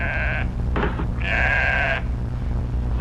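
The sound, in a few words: sheep bleating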